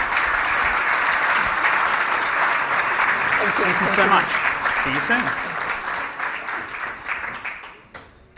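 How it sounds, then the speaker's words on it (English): Audience applause at an opening plenary session on global crises and climate ambition, a sustained broad clapping that swells then fades toward the end, with a speaker's voice thanking people over it. "Can everyone give a round of applause?"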